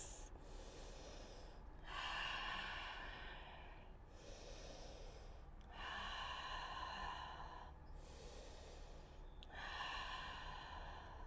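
Slow, steady yoga breathing during a held humble warrior pose in a vinyasa flow, three long audible breath cycles, each a broad airy rush, close and alone with quiet pauses between them.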